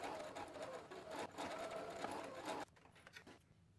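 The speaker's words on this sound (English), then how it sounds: "Now I'll top stitch the edges." A sewing machine top stitches the edges of a fabric pet bandana, running in a steady close whir for a few seconds, then slowing and stopping with a couple of short bursts.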